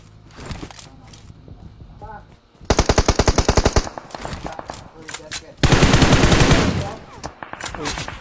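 Automatic weapons in a battle royale shooter rip out two long, rapid bursts of fire, one early and one later, loud and close, with players talking between and over the shots.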